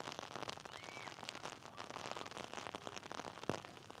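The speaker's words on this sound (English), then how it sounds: "And this rain is ripping through." Heavy rain pours down at an outdoor high school varsity baseball game, a dense, faint crackling patter that stays continuous throughout.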